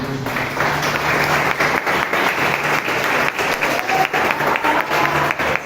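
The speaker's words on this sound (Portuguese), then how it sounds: "Você pode aplaudir a Jesus essa noite?" Loud, sustained applause from a church congregation at an evening service honoring Jesus, filling the room continuously with only small dips in intensity and no voices on top.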